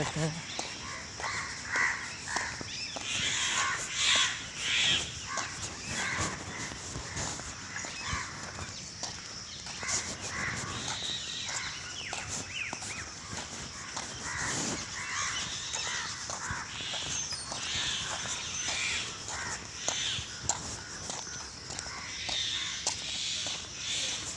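Crows caw repeatedly during an early morning walk outdoors, the harsh calls scattered throughout amid other birdsong, with a person talking over them at times.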